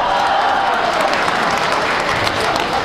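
An audience at a live stage show claps in a dense, continuous wash of applause, loud and sustained throughout with no pauses.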